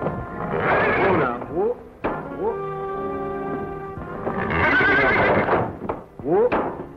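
Loud, close horse whinnies in a western film, several long quavering neighs with pauses between them.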